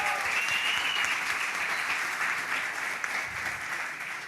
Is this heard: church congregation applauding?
yes